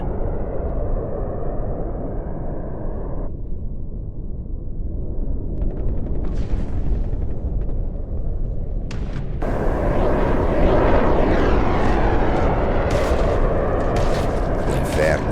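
Continuous rumbling gunfire and heavy booming bomb explosions in Project Zomboid, dense and loud throughout, growing busier and brighter in the second half.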